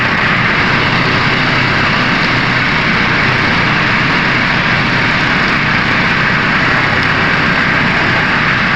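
An old Proton Saga car engine running steadily up close as a continuous, even mechanical rumble with no voices.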